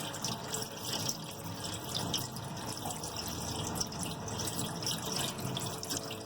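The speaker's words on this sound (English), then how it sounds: "it's straining the plum because it has been soaked overnight and a whole day" Soaked red plums being strained, their liquid pouring in a steady, continuous splashing stream, close up and moderate in level with no talk.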